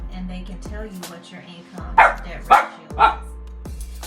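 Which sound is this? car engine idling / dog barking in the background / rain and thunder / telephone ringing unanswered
dog barking in the background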